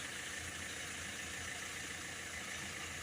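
A Ford Transit Custom 2.2 diesel engine idles steadily during DPF cleaning, a constant low hum with broad mechanical hiss, close and unbroken for the whole stretch with no talk.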